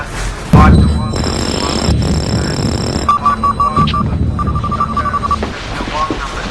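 A telephone in a 1970s police drama rings in repeated electronic trilling bursts partway through, heard under other tonal beeps and a low hum in a busy room.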